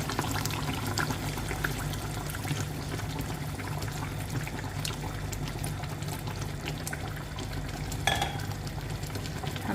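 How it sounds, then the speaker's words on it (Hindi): Water is poured into half-cooked chicken korma in a pot, Old Delhi style, with a steady pouring and trickling hiss that lasts about ten seconds over faint sizzling. "तो इस स्टेज पे हम इस पर डालेंगे थोड़ा पानी।"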